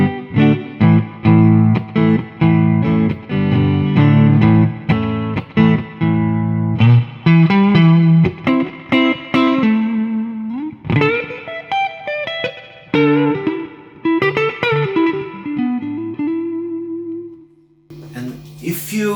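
Electric guitar run through a pedalboard with effects and a very long reverb from a dual reverb unit, playing loud, aggressive chords and notes whose tails wash out, ending in a sustained ringing tone.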